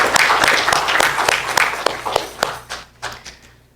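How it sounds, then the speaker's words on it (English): An audience at a college student art show applauds art students, a close, loud burst of clapping that thins into a few scattered, separate claps before dying away. "The next thing I want us to do is to give you a round of applause."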